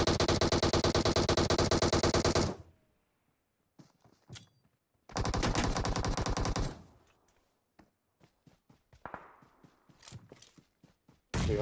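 Loud, sustained automatic gunfire from the mobile game Battlegrounds Mobile India, with two long dense bursts followed by scattered single shots and short volleys, nearby and dominating the scene without speech.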